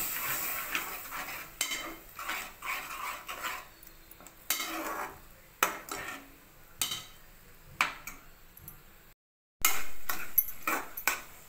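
A spoon stirring tamarind juice into bagara baingan in a pan, with repeated close clinks and scrapes against the metal in an uneven rhythm, a short pause near the end, then more stirring.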